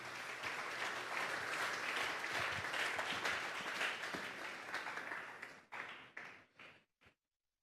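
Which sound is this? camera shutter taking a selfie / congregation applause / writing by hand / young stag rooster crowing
congregation applause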